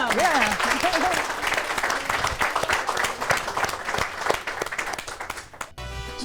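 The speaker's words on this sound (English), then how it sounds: "Let's clap for him." An audience claps steadily for a singer from Cuba taking the stage at a Cuban culture event, the dense applause filling most of the stretch before cutting off abruptly near the end.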